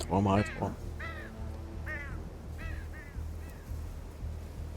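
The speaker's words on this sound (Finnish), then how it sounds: "Miten ne on lokkeja muuten nää rannas?" Seagulls call on a beach in HITMAN, a loud harsh squawk up close followed by four shorter, fainter cries spaced about a second apart over low ambient noise.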